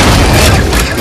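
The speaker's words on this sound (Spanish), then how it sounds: "Dispara, cohetes, excelente." Rocket fire from a robot's launcher in the Halo 4 video game, a loud, dense booming blast that fills the whole second with a heavy low rumble.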